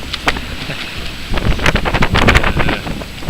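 Gusty wind buffeting a microphone, rumbling low and loud, with intermittent crackling bursts growing stronger in the second half.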